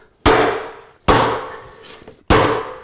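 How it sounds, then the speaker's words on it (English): Three sharp, loud mallet strikes on a pneumatic-style flooring stapler drive staples into engineered hardwood flooring, each a hard close crack with a short ringing decay, spaced about a second apart and heard alone. "hit it a little bit harder than you were before to direct enough energy to fire the staple in, like this."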